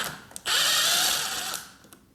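A power tool drives a bolt out of a Kawasaki ZX10R, a short blip followed by a loud, steady whirring ratchet burst of about a second that trails off, with no talking.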